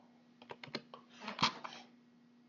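Computer keyboard typing close and quiet: a short run of crisp key clicks in an irregular burst, with a faint steady hum behind and no speech.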